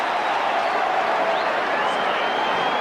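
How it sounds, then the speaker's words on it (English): Large crowd of about 40,000 at an Adelaide versus Collingwood 1996 AFL football match roaring in approval of an umpire's free kick decision, a dense continuous cheer at steady loudness. "And listen to the crowd"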